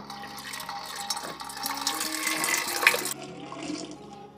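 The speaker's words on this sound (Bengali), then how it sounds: "এবার জল দিয়ে দেব।" Water pours and splashes into a pressure cooker holding potatoes, a continuous gushing fill that stops abruptly near the end, close and moderately loud, with no talk.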